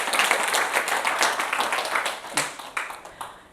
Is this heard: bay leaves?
no